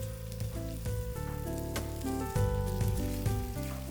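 Curry paste for a chicken curry sizzles in a hot pan, a steady close frying hiss that runs throughout under tonal background music.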